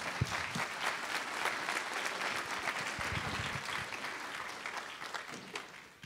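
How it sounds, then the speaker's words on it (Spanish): An audience claps steadily for several seconds, a dense burst of applause that slowly thins out toward the end. "Un aplauso, por favor."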